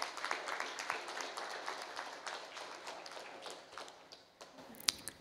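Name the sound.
audience applause at birthday event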